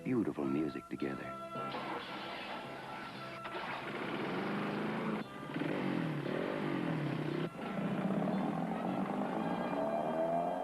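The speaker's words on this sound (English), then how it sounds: "If your engine isn't starting on cue, put in a fresh set of Champion spark plugs at least once a year." Engine cranking to a start and then running steadily in a Champion spark plugs advertisement, the motor noise loud and continuous under a narrator's voice.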